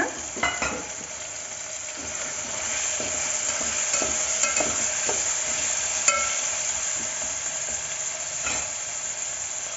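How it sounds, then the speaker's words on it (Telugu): Carrot and potato pieces fry in a pot for a pressure-cooker pulao, a steady sizzle with scraping stir strokes throughout, close and alone with no talk. "ఇప్పుడు ఇందులోకి మనం ఇందాక కట్ చేసి పెట్టుకున్నటువంటి క్యారెట్ అలాగే పొటాటో ముక్కల్ని వేసుకోవాలన్నమాట"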